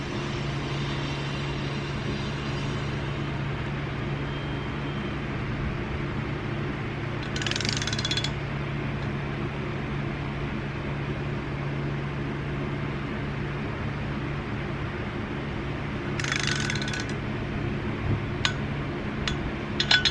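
A wrench tightens flywheel bolts during a Collins Performance Technologies Stage 5 twin-disc clutch and flywheel installation. Two short ratcheting bursts stand out some seconds apart over a steady mechanical background hum.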